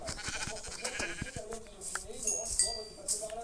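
Sheep bleating in the Minecraft video game, several short bleats in quick succession over game sounds and faint background noise, moderately close and fairly quiet.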